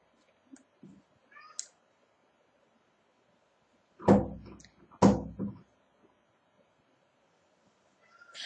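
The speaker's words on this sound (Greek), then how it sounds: "Αυτό το λυσασμένο που ακούτε είναι το γατί, το οποίο έχει κλειστεί έξω και έχει μάθει και χτυπάει την πόρτα" A cat shut outside knocks on a door by working its handle, giving two loud clustered rattling thumps about a second apart, with faint small clicks before and a softer noise at the end.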